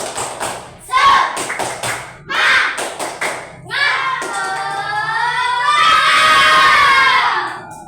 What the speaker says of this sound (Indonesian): Mana tepuk semangatnya? Tepuk semangat.